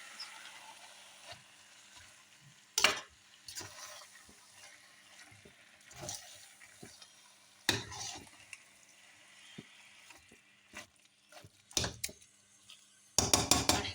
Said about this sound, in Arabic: دابا كنحرك نغطوها وكل دقيقه نحرك باش ما تلصقش لينا لداخل.